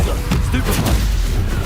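A Stupefy spell cast in Hogwarts Legacy: a short magical burst with a sharp impact, heard amid the game's continuous combat noise and other spell effects.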